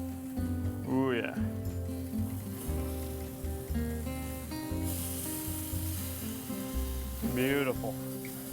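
Walleye fillets fry in a pan with a steady, soft crackling sizzle heard throughout, under a voice, with brief louder bursts of movement in the pan.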